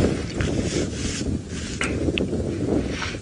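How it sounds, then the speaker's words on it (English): Wind gusts roar and buffet constantly around a vehicle on an evening safari drive, a loud, rough rushing with rubbing creaks and no talk. "Now, it's quite windy today,"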